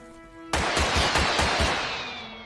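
Quickdraw units open fire in the video game Totally Accurate Battle Simulator: after a short lull, a loud volley of about six rapid, closely spaced shots bursts out, then rings and fades away.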